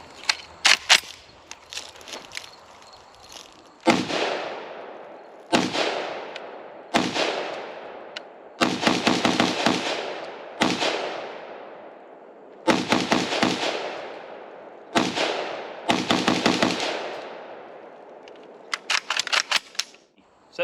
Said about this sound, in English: we've got the CETME-LV first shots